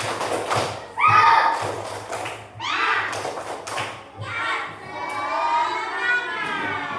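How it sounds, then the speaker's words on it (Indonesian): A classroom of children claps along to a thumbs clapping chant led by a teacher, rhythmic clap bursts mixing with the teacher's voice and the children's chanted responses throughout. "Tepuk jempol. Jempol kanan, jempol kiri, dua jempol. Tepuk semangat."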